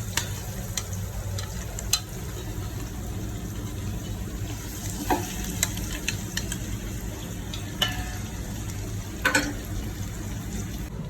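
Cooked mutton stirred into a pan of fried onion, garlic and chili, giving a steady low sizzle with scattered scraping clicks from a spoon against the pan, fairly close, with no one talking.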